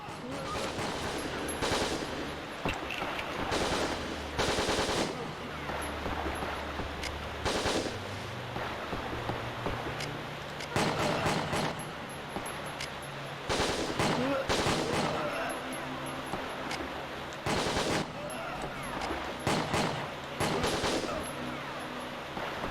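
Gunfire in the Winback: Covert Operations video game as guards are shot from cover behind moving boxes, with repeated dense bursts of shots across a constant busy game soundtrack, under a speaking voice.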